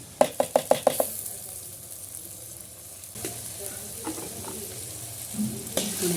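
Ginger and tomato paste added to browned onions in a pan on a rustic desi stove for cauliflower sabzi, with a burst of quick clattering stirring knocks at the start, then a steady close sizzle with occasional scrapes.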